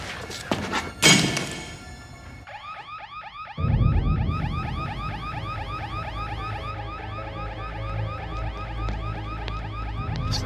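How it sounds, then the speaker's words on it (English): An alarm goes off in a supernatural thriller film, starting after a few loud thumps with a rapid repeating electronic warble that keeps cycling steadily and loudly over a low rumbling background. "It's the fire alarm. Who the hell could have set up the fire alarm?"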